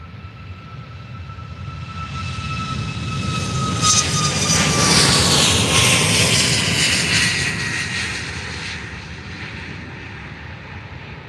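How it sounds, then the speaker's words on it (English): A Norwegian Boeing 737 MAX bound for Copenhagen passes at Faro Airport, its jet engines swelling from a steady whine into a loud broadband roar that peaks midway and then slowly fades, with tonal whistles sliding downward as it goes by. "is a Norwegian 737 MAX to Copenhagen"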